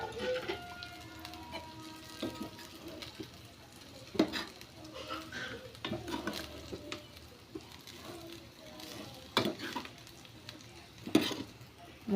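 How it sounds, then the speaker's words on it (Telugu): Cooked rice stirred into a carrot mixture in a pan for carrot rice, with soft scraping and scattered spoon clinks over a faint sizzle, irregular strokes close by, with some talking in the background. "ఇలా క్యారెట్ రైస్ని అయితే మొత్తం ఇలా మిక్స్ చేసుకోవాలి"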